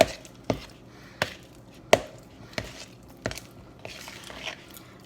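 A utensil works cream cheese salami wrap filling around in a bowl, giving sharp, close knocks about every 0.7 seconds over a quiet background, with no talking.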